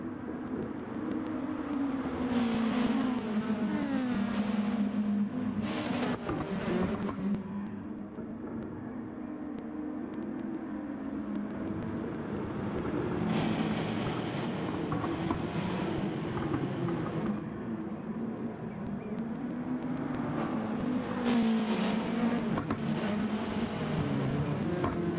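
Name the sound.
touring race cars behind safety car, Dragon Trail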